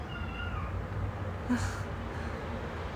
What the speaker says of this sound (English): It's a cat, by the way. It sounds like a kid,